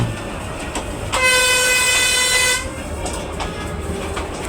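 A train at a station in Dalat, Vietnam, sounds a loud, close horn as one steady blast lasting about a second and a half, set against a low background murmur before and after.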